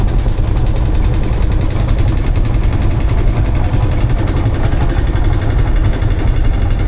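A Field Marshall tractor in good condition runs at a steam rally, its engine a loud, steady low thudding rumble heard close up and unbroken throughout.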